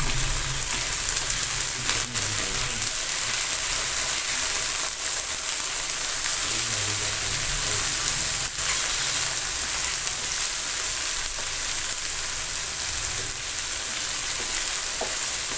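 Steady, loud sizzling of ginger garlic paste frying in a hot pan, a continuous crackling hiss with no voices.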